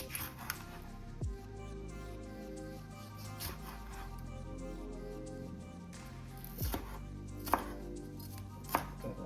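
A hot pepper being chopped with a knife on a cutting board, a handful of distinct close knife knocks spaced irregularly over a quiet background.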